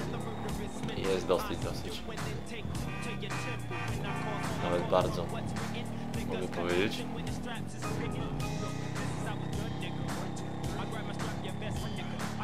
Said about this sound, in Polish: Zobaczymy, jak bardzo zwrotny jest ten motor.